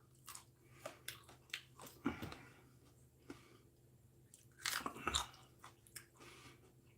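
Crisp crunching bites of a thin-walled, low-heat coffee pepper, about a dozen sharp chewing crackles coming in irregular bursts and a denser cluster midway, close up with no talking.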